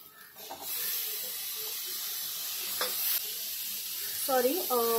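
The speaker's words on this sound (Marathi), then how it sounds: "इथे वाटण छान भाजलं गेलं ना की कांदा आहे तो टाकून घेते।" Onion goes into a roasted spice paste in a hot pan for a Maharashtrian val bean curry, giving a steady close sizzling hiss that runs nearly the whole time, with a short voice near the end.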